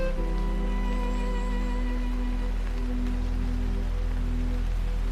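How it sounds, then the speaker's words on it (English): Steady rain falls through a woodland, a soft continuous hiss that stays even and gentle for the whole stretch, with a low sustained drone of tones humming beneath it. "The rain is gentling"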